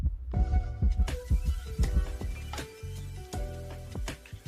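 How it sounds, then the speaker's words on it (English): A heartbeat sound effect thumps out a steady, repeating double pulse layered over energetic background music, loud and close in the mix. "And some heartbeats here."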